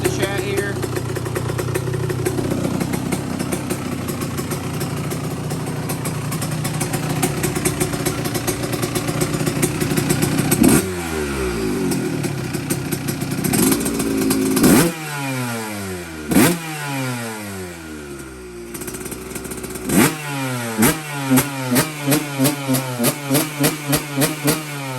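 A rebuilt Kawasaki KX125 two-stroke dirt bike engine idles roughly, then revs repeatedly in sharp rising bursts before settling into rapid popping blips, loud and close, with a person talking briefly over it.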